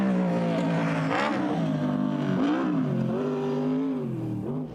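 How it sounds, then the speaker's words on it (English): A quad racing bike screams at high revs in a super quad race, its engine pitch rising and falling through gear changes as it passes, loud and steady throughout. "This left Ian Newman to head the class on his screaming super quad"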